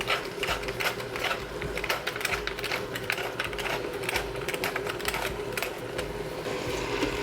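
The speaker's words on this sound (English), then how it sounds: "we'll just let the mince fry there for a moment" Minced beef fries in an Instant Pot, giving a dense, steady sizzle and crackle that runs the whole time, close and fairly loud, with low appliance hum beneath and no talking.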